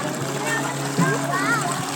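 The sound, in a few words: water splashing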